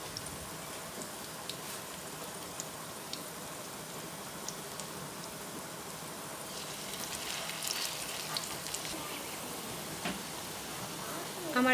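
Drumstick leaf fritters (sajna patar bora) fry in hot oil with a steady, dense sizzle and crackle that runs evenly throughout, close and moderately loud, with no voices.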